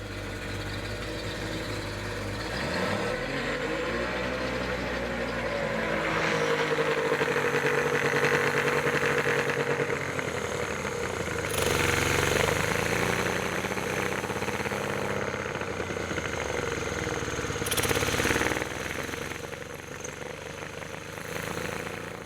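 A small engine with a carburettor being unblocked runs continuously. Its revs rise and fall, with a droning, idling tone and occasional louder bursts as the throttle is worked.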